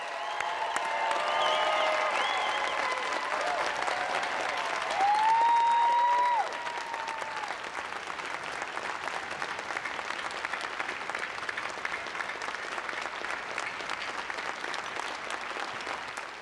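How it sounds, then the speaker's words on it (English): A large crowd applauds graduates at a university convocation ceremony, a broad, continuous wash of clapping that swells with a few whistles and cheers in the first seconds, then settles into steady, slightly thinner applause. "give a warm, warm round of applause to every single graduate"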